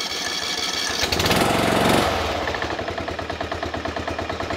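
A Briggs and Stratton Intek small engine sputters, catches with a loud rev, then settles into a rapid, steady chugging idle that sounds somewhat low and uneven.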